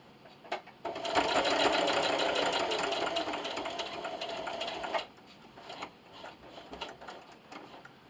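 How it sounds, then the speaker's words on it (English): A sewing machine stitching diagonally across a plastic bag dispenser runs in one steady, fast whirring burst for about four seconds, then stops, leaving quiet handling noises. "This time I'm going to sew diagonally across to the opposite corner."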